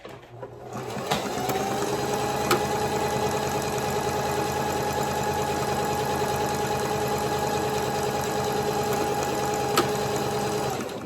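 A sewing machine stitches ribbon onto the fabric body of a tutu, running as a loud, steady, continuous motor whir and needle chatter for the whole stretch, with no talking.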